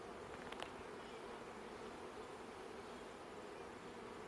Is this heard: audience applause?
no